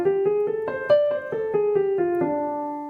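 Piano plays the blues scale one note at a time, including the flat five, in a steady ascending-then-settling sequence of about ten struck notes, each clearly separated, close and alone without talk.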